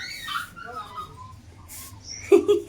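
A tied-up dog whimpers and whines in thin, wavering cries, with a sharper yelp near the end, close by over a low background murmur that sounds like voices.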